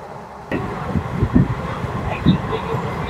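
The Kanchanjunga Express runs at speed, a loud rattling rumble of the train with clattering wheel thuds, heard from inside the carriage, with voices nearby.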